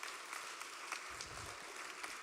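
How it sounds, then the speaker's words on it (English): Applause from an audience at the Polska Eire Festival in Kilkenny, steady dense clapping for a costumed performance, moderately distant and continuous, with a brief low rumble partway through. "Big hand of applause for the lovely Polish costumes."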